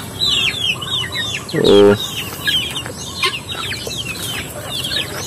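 Pet chickens at afternoon feeding cluck and chirp constantly around the listener, and one louder squawk stands out briefly. Someone says a single word.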